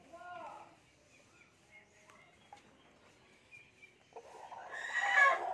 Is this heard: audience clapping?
no